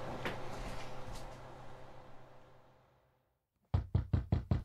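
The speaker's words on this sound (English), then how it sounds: "Knock once and go." Five sharp, close knocks on a door in a radio drama, evenly spaced. They follow a moment of near silence after fading background sound.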